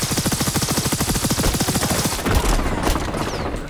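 Automatic weapon fire in XDefiant team deathmatch chatters as a fast, even burst of shots for about two seconds, then gives way to a rough, noisy tail of combat sound.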